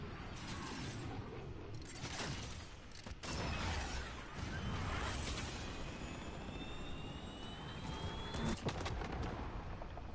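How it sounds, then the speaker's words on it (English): A cruise missile killstreak strike in Call of Duty: Modern Warfare, with a steady jet-like roar and rumbling blasts running through the whole stretch, fairly distant and muffled, with several sharper cracks standing out. "Cruise missile, let's go prone."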